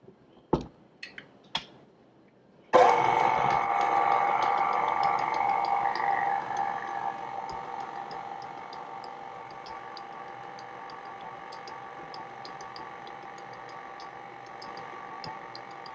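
An electric mixer beats cookie dough with chocolate chips. After a few light clicks, the motor starts abruptly into a loud, steady whirring hum that gradually settles lower and quieter over the following seconds.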